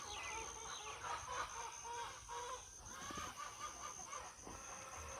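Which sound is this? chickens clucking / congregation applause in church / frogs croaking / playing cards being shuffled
chickens clucking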